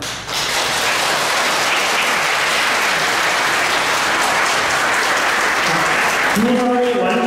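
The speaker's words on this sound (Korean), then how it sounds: "다시 한번 여러분들의 큰 박수 부탁드리도록 하겠습니다." Wedding guests applaud loudly at a ceremony, a dense, sustained burst of clapping from a full room that carries on until a voice begins speaking near the end.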